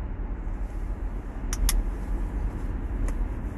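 A car drives along with a steady, low road rumble and engine drone inside the cabin, broken by a few faint clicks.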